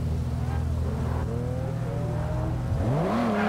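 A Lamborghini Aventador in Forza Horizon 2's Hypercars street race at East Park: steady loud engine drone with rising rev sweeps near the end, continuous and close.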